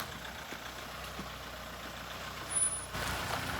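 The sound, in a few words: vehicle arriving on mountain road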